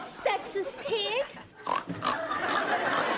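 A boy snorts and oinks like a pig, a voice imitating the animal in quick grunting bursts, mixed with lively talk in an indoor family scene.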